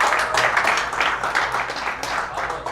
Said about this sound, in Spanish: un aplauso al equipo de Bendice Chapu.